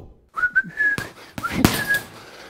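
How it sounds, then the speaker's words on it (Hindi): A man whistles a loose, relaxed tune in short wavering phrases, close and clear, with a few soft breaths and faint background noises between notes. "आराम में होते हुए सीटी बजा रहा हूं"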